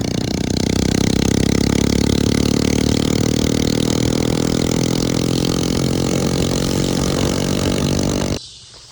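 A Honda Grom motorcycle on a short demo ride revs up and holds a buzzing, rising engine note, loud and close with wind rush, before cutting off abruptly near the end.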